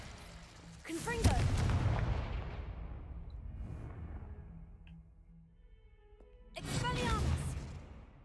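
Two loud magical blasts from a Confringo spell in a wizarding video game burst out with whooshing, explosive booms, separated by a quieter lull with faint game ambience.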